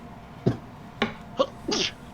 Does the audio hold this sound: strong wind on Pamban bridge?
no